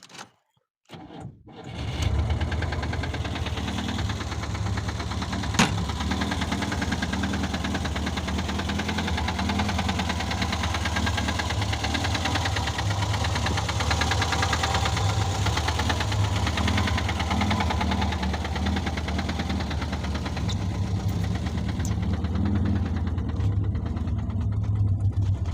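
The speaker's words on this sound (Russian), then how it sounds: "Ну, еще стучит двигатель." An idling VAZ 2106 car engine runs with a steady mechanical knock, loud and close, droning evenly for the whole stretch after a brief quiet start, with no talking.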